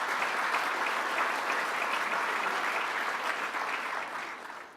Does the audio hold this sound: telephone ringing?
no